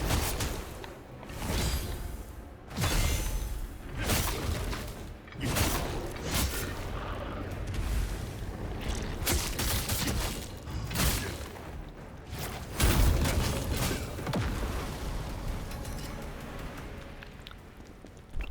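Greatsword combo in The First Berserker: Khazan, a run of heavy swooshing swings and thudding impacts in bursts, ending on a weightier heavy attack, loud and close with no talk.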